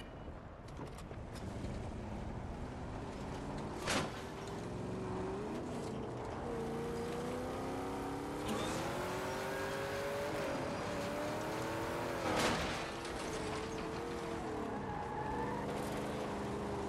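Vehicle engine in the Battlefield 6 battle royale game, a steady droning hum that rises and falls in pitch as it revs, with wind noise and two brief louder bumps along the way.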